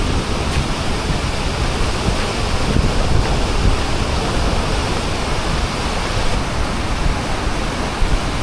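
Waterfall at Milford Sound, New Zealand, roaring as a loud, continuous broadband rush of falling water, close and unbroken, with no voices over it.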